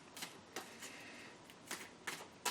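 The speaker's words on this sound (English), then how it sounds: "I think I am going to shuffle some Romance Angel cards here" Romance Angel oracle cards are shuffled by hand in a quiet room, giving a series of soft, brief riffling bursts at an uneven rhythm with pauses between them.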